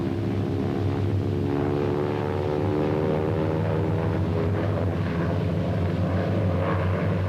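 A light airplane's propeller engine drones steadily and loudly while diving for speed ahead of a loop, an even, harmonic hum that holds level throughout.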